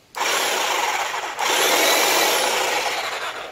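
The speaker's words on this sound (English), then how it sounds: "Got me hedge trimmer here." A powered hedge trimmer buzzes loudly through olive bonsai foliage, a close steady whine cutting briefly before resuming for a second longer pass.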